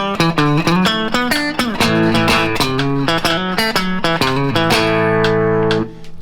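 A Telecaster electric guitar on its middle pickup position picks out an opening riff: a clean, bright run of sharply attacked notes, closing on a ringing sustained chord, with no one talking.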